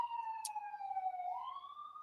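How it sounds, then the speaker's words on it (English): A single emergency siren wails outside, its tone falling slowly and then rising again, clear and continuous at moderate distance with no speech over it. "And so now you hear the sirens."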